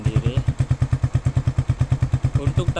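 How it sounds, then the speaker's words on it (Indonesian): Suzuki Satria FU fuel-injected motorcycle fitted with an SCD Euro aftermarket exhaust, idling with a deep, bassy, steady pulsing thump that repeats rapidly and evenly, close and fairly loud. "Sedikit ngebas, lebih terdengar suara ngebasnya daripada knalpot bawaan Satria"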